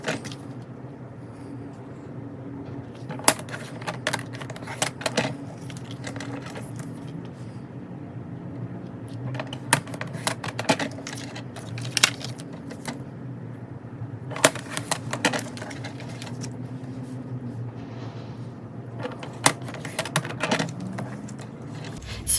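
Scissors cut through the back of a transparent plastic planner divider in a quiet room, with scattered sharp snips and crisp clicks at irregular intervals over a low background hum.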